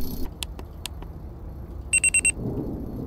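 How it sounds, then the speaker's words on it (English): Electronic devices in the Amanda the Adventurer video game emit a quick run of four bright, identical beeps in even rhythm, preceded by a few sharp clicks over a low ambient hum. "Okay, they all beeped."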